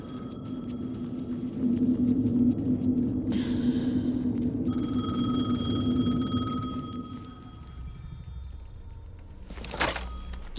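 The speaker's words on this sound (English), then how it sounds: "The phone again." A telephone rings repeatedly in Alan Wake 2, a steady electronic trill with clear periodic pulses over a low ambient rumble, fairly loud and alone without speech.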